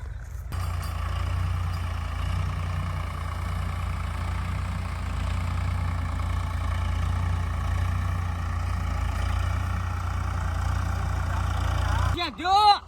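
A tractor engine idles with a low, steady rumble throughout while people talk over it, ending with a short burst of rising mechanical whine.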